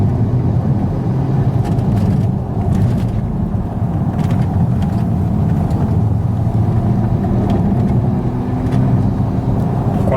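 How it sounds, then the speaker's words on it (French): A 2015 Audi RSQ3 five-cylinder turbo, 340 hp, heard from inside the car as a loud, steady engine roar that stays dense and constant with faint puffs on top. "Là, les 5 cylindres, on a un demi V10 et n'empêche, ça sonne super bien."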